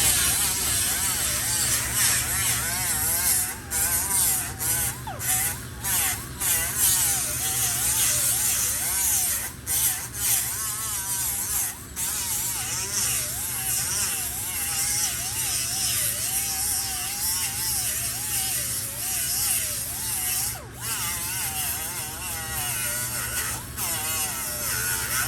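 An angle grinder works on the steel quarter panel of a 1972 Chevy Impala convertible, a continuous high whining buzz with wavering pitch and brief dips as the tool bites and lifts.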